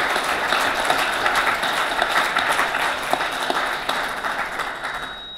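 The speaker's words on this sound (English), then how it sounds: "a round of applause wouldn't be out of order for those fundraisers" Sustained applause from the audience at an annual general meeting, thanking fundraisers, with steady, even clapping throughout and a faint high tone near the end.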